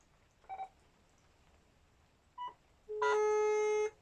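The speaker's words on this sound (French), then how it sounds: "Et je vois que je récupère une tonalité." Landline telephone plugged into the modem socket in place of the modem: two short beeps, then a steady dial tone lasting about a second, close and clear in a quiet room.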